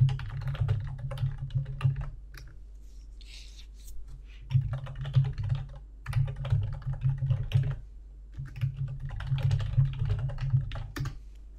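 Keys clatter on a computer keyboard as task names are typed, coming in bursts of quick taps separated by short pauses, close and moderately quiet.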